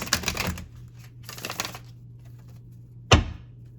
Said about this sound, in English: I'm gonna give these cards one more shuffle